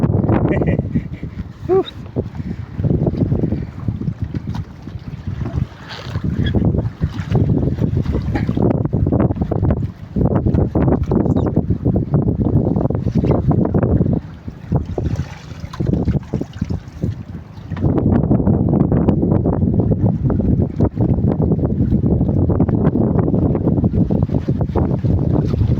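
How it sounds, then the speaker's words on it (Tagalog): Strong monsoon wind at sea during a typhoon buffets an open fishing boat, a steady roaring rush with gusts and wave noise, loud and close throughout, with brief lulls near the middle. "Kalakas yung habagat dito sangkay dahil sa bagyong Inday."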